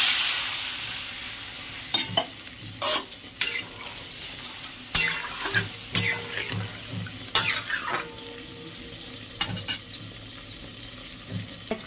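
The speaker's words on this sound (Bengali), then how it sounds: "এবার জল দিয়ে দেবো।" Water poured into a hot frying pan with turmeric in it, hissing loudly at first, then a steady sizzle under repeated close scraping and stirring strokes of a utensil against the pan, with no talk.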